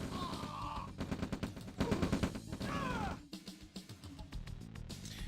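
Rifle infantry open fire in the real-time strategy game OpenRA Red Alert, with rapid clusters of sharp, crackling shots that come in several dense bursts and then thin into scattered pops, fairly close and loud.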